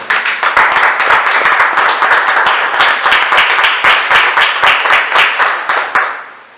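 Sustained rhythmic clapping from a church congregation during a Spanish-language Sunday sermon, loud and close, steady dense claps for about six seconds before fading out at the end.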